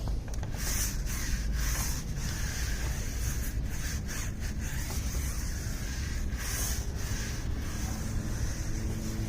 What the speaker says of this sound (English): As I'm agitating it, as I'm scrubbing it, it's starting to stick to the tire.